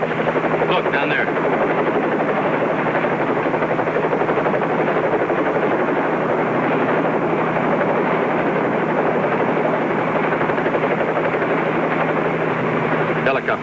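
A helicopter drones steadily and loudly throughout as a radio drama sound effect, its rotor chop forming a dense continuous wash with no pauses.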